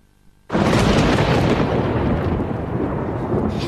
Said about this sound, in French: N'aie pas peur, Lily, c'est juste un gros orage.